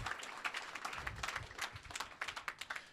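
Scattered live audience applause at a startup demo day, a room clapping after a set of business pitches: crisp individual hand claps with uneven rhythm, fairly close yet soft, and no voices over them.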